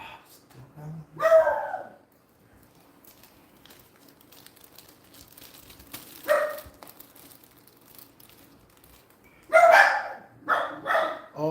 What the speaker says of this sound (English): they're barking because outside